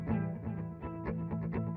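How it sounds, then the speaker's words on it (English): An electric guitar driven through a high-gain amplifier gives a gritty, heavily distorted tone, with chords struck in a steady rhythm and each attack ringing into a buzzing sustain, loud and close. "the amplifier would begin to distort the sound"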